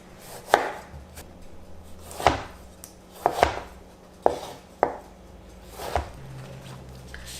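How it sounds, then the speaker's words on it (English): A knife chops carrot, potato and tomato into cubes on a board, sharp separate thuds landing at an uneven pace, close and clear against a quiet background. "Carrot, cut it into cubes. Now the potato. Then the tomato."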